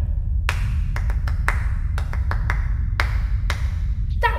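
Hands clap the Bolero rhythm as a sparse, irregular pattern of sharp claps over a steady low background hum, ending in a quick flurry of rapid claps.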